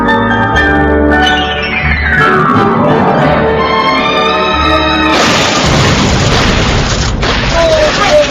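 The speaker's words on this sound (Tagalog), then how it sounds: "Kanina pa tayo nagpapalitan ng putok." Loud, continuous bursts of gunfire and heavy booms pound away, layered with dramatic music and occasional voices.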